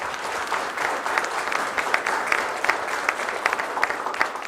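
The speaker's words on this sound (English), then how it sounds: "I think we should give them a round of applause." A crowd at a sheriff's candidate forum claps steadily for a few seconds, a dense patter of many hands, with scattered sharper claps standing out.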